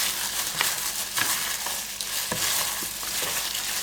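A chicken marinade made with yogurt being stirred in a bowl, a steady close wet swishing with soft repeated scrapes against the bowl, heard on its own without talk.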